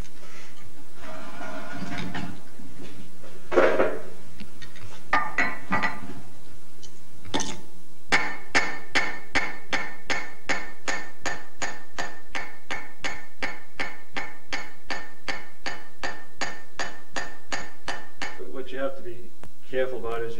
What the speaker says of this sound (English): I'm going to go to a little bit lighter hammer. This is about a 2-pound hammer.